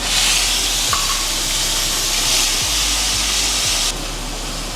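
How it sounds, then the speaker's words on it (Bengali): Spice paste hitting hot oil in a pan for moong dal with fish, a loud, dense, continuous hiss and sizzle close up, with a few soft knocks, dropping slightly in level near the end. "পুরো মশলাটা এবার এই তেলের ভিতর দিয়ে দেবো"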